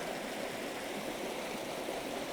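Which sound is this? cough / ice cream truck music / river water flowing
river water flowing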